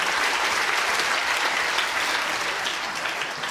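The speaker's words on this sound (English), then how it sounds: "Big round of applause for Louise Kenny." An audience claps steadily and loudly, a dense sustained applause with no pauses or voices standing out.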